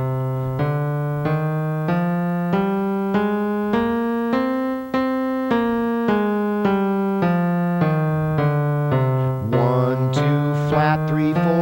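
A guitar plays the Aeolian natural minor scale one note at a time, a steady stepwise run of about fourteen clear plucked notes going up and back down, followed by a brief spoken voice.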